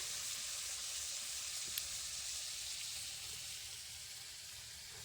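Fish frying in a pan, a faint, steady sizzle with a low background hum and one small click partway through.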